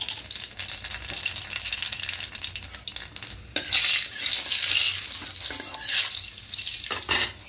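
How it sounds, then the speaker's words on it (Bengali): Nigella seeds sizzle and crackle in hot oil in a wok, a bright, hissing fry that swells louder partway through and keeps popping steadily, with no voices over it. "এবার কড়াইয়ে তেলটা গরম হয়ে এসেছে, এখানে কালো জিরে ফোড়ন দেব।"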